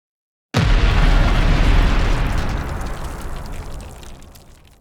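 A single deep, booming synthesized explosion, made in Phase Plant, erupts suddenly after a moment of silence, then rumbles and slowly fades away.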